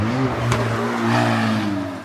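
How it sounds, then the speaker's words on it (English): A car engine hums loudly and revs up, a steady droning rumble that rises and holds, close by, with no talking. "Why does everyone's car sound like that today?"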